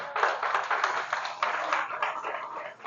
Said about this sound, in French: Non, tu as applaudi.